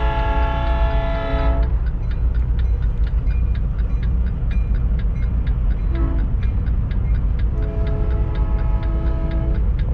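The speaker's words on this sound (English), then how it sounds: "so the train has passed" A train passes close by with a loud continuous rumble and a rapid, regular clacking of wheels over rail joints, a sustained horn blast at the start and another brief tone midway.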